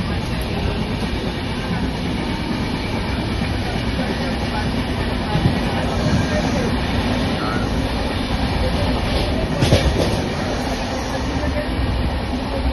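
A moving passenger train rumbles and clatters steadily on the rails from inside the carriage, a dense continuous roar with faint voices now and then.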